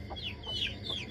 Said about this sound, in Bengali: মুরগিটা আগে সরিয়ে নিতে হবে।